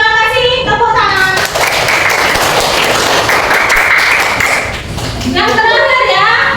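A classroom claps for a student group after its presentation, a dense burst of applause in the middle with children's and adult voices talking before and after it.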